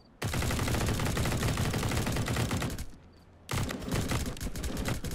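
Rapid automatic gunfire in the survival game Pantropy, dense and loud bursts of rattling shots that stop briefly around the midpoint and then resume, with no talking over them.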